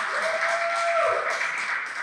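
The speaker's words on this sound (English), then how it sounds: "Could you give her a round of applause" Applause rolls through a room, many hands clapping in a continuous wash that swells slightly toward the end.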